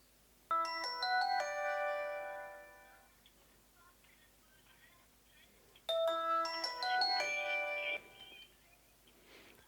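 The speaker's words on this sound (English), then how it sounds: "So it's ringing," A phone connected through a Huawei 4G LTE router rings in two loud melodic ringtone bursts separated by a quiet pause, close and clear.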